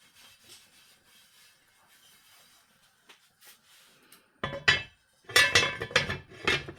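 A lid goes onto a cooking pot of slowly simmering homemade couscous. Faint kitchen clinks come first, then sharp metallic clatters and scrapes from the pot and lid in the last few seconds, with no talk.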